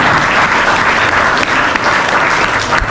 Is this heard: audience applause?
yes